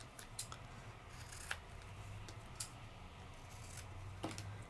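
Scissors snip through a strip of tape from a 1-inch roll during die-cutting crafts, several quiet crisp cuts spaced out over a low background hum, faint and close with no talking.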